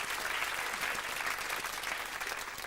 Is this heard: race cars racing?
no